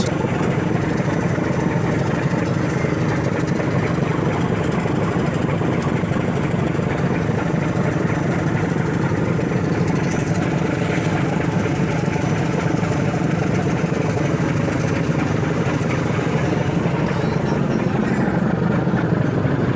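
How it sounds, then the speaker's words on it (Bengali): Aboard the Abe Zam Zam passenger launch departing Sadarghat, a heavy river-ferry engine drones loudly and continuously, with a dense low throb and rumble, while another large launch passes alongside; no talking is heard. "আমাদের লঞ্চের পাশ দিয়ে আরেকটি লঞ্চ যাচ্ছিল সেই লঞ্চটিও দেখতে খুবই বড়"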